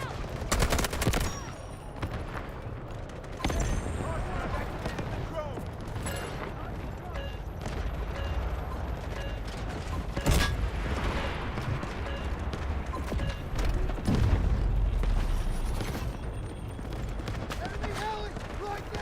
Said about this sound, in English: Intense enemy fire!